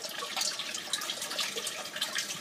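Water gushes out of an aquaponics bell siphon drain once the siphon fully starts, a steady, close, rushing and splashing flow that runs on alone without a break.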